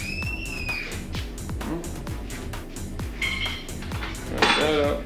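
Dishes and cutlery clatter at a family dinner in the background, with frequent clinks and scrapes of plates and utensils, moderately faint, alongside some indistinct talk.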